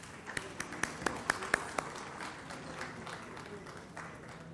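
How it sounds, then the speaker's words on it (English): Audience applause at an awards ceremony felicitating winners, a handful of distinct claps at first, then softer scattered clapping from a small crowd that thins out, fairly quiet overall. "Can we have a huge round of applause for him, please?"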